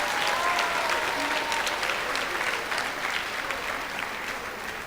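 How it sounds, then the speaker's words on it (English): Audience applause at an 8th grade recognition ceremony, a dense, steady wash of clapping from a large crowd that stays loud throughout and tapers slightly toward the end. "give them one more round of applause to making it every class"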